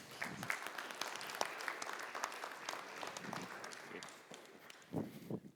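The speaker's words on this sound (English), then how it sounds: "Round of applause." Faint audience applause at an aviation industry conference session on airline network planning, scattered quiet claps at a distance with a few louder thumps near the end.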